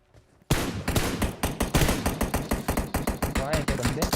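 Rapid automatic gunfire in the PUBG Mobile shooter game, a loud near burst of repeated rifle shots in quick rhythmic succession starting abruptly after a brief quiet moment and continuing throughout.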